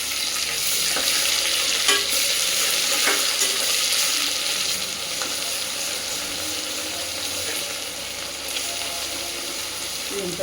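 Ginger garlic paste frying in a pressure cooker for a pulao, with a loud continuous sizzle close by and occasional scraping from stirring.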